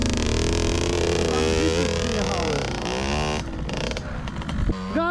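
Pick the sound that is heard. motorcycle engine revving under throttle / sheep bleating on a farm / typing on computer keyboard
motorcycle engine revving under throttle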